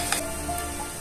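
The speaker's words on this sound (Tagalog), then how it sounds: "Nagdagdagan lang natin ng konting oil para maluto yung sibuyas." Onion frying in oil in a pan, a steady soft sizzle with faint crackles and a constant background hiss.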